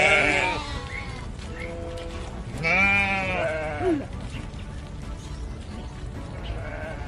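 Farm sheep bleat several times, a few close and wavering calls rising above a steady background noise, with fainter bleats in between and no talking.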